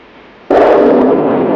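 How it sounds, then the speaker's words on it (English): A surface-to-air guided missile launches from a U.S. Navy destroyer with a sudden loud roaring blast that holds as a sustained rushing whoosh, heard close and alone. "The surface-to-air guided missile."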